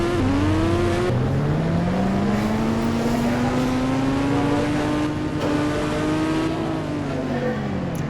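A Hero Splendor motorcycle is ridden, its engine note steady and loud, rising slowly in pitch as it accelerates and then dropping back, with constant road and wind noise throughout.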